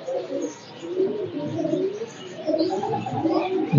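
Pigeons of the Piplan breed cooing steadily at close range, soft low rolling coos overlapping throughout with a few faint chirps mixed in, no talking.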